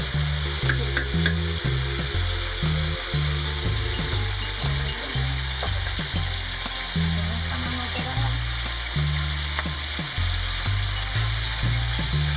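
Meat sizzles and browns in a paella pan for paella valenciana, a continuous close frying hiss with rhythmic stirring scrapes repeating throughout, no talk over it.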